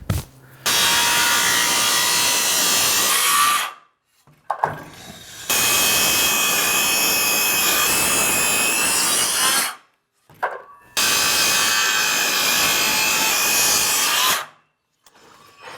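A DeWalt brushed power saw cuts through wood in three long, loud passes of about four seconds each, separated by brief silent gaps, with no speech.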